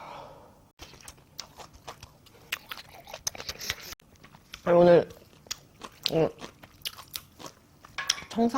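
Crunchy chewing and biting of grilled pork belly wrapped in lettuce, with kimchi also grilled, in close, repeated bites and mouth sounds between brief quiet gaps.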